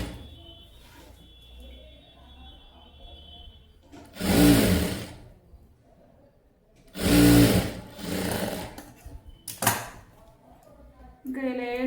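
A sewing machine stitches saree fabric in two loud, rapid runs and one brief burst, close by, with quiet talking in the pauses between the bursts.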